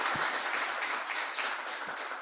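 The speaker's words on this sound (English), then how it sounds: "Another round of applause for Sister Ying." A small audience gives a brief, steady round of applause for Sister Ying after her Dhammapada sharing at a Buddhist talk, the clapping soft and continuous throughout.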